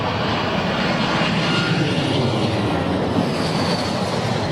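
A jet airliner lands at London Heathrow Airport in strong storm winds, its engines giving a loud, steady, broad roar that stays even throughout with no voices over it.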